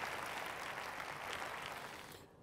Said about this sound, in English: Let's give he and his team another round of applause